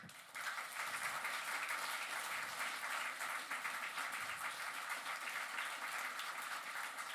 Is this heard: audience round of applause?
yes